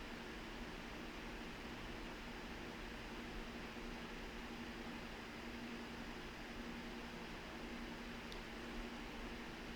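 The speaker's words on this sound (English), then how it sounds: "we're back to, like, the nice white noise fan" A white noise fan runs in a room, a faint, steady broadband whoosh with a low hum that never changes and carries no voices.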